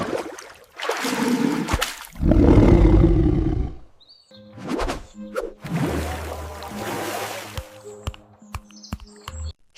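A cartoon tiger gives loud, growling roars, a long rumbling burst followed by further snarls amid scattered high chirps and effects, with no talk over them.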